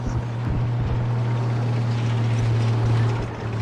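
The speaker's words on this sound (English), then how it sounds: "Helicopter! That's a helicopter!" Helicopter in the military video game Arma 3, a steady low rotor drone with engine hum holding loud and close throughout, no voices over it.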